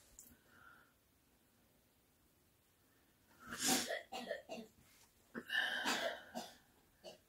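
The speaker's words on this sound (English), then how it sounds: "That's my son coughing." A child coughs in two close, fairly loud bouts of several rapid hacking coughs each, after a few quiet seconds.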